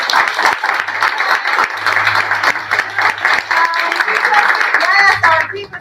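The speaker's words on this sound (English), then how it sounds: "let's just all once more give a round of applause and thanks to Mia and Kay" An audience at an evening forum on abortion rights claps steadily for the panelists, sustained applause throughout, with voices talking over it.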